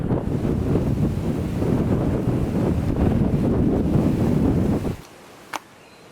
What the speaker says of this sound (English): we can't make any videos just yet because it's far too windy